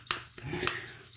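Shaving cream being whipped in a warmed shaving bowl for a wet shave, with two sharp clinking scrapes of the brush against the bowl rising over a soft, close swishing.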